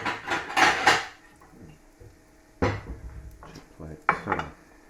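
A small dirty plate clattering among dishes and cutlery in a kitchen after frying, three separate bursts of clinks and knocks, close and crisp with quiet gaps between them.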